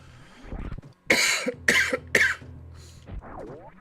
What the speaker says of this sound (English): I'm so sick of this cough.